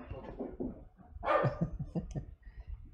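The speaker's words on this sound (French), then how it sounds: "Et puis il y a mon chien, vous l'avez entendu" A pet dog barks several times indoors during a live drawing session, a quick run of short muffled barks at moderate distance over a low room background.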